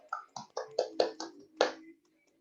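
A small classroom group of primary students gives a few sparse, light claps for a classmate, about seven quiet separate hits spread over two seconds, then silence.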